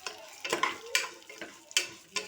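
Vermicelli (semiya) for payasam is stirred in a pan with a spoon, giving a series of sharp scraping and clinking strokes over a faint sizzle. The strokes come at an irregular rhythm, about five or six of them.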